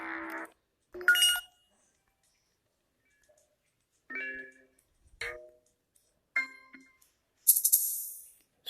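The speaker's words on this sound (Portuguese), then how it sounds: "você vai ter que reproduzir o som da notificação" A Motorola phone plays a series of short notification chimes, each separated by silence, ending with a brighter, higher tone.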